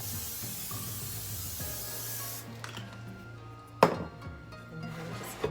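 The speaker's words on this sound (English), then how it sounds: "I'm going to give it a little squirt with some oil." Cooking oil sprayed onto a heated grill for Korean kalbi ribs, a close, steady hiss for a couple of seconds that cuts off, followed by a sharp knock and light handling sounds.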